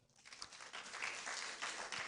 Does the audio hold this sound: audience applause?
yes